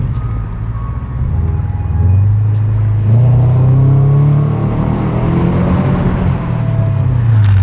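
A Scion FR-S / Subaru BRZ / Toyota 86 sports car revs loudly inside a road tunnel, its engine note climbing and holding in a strong, close, echoing drone with no talk over it.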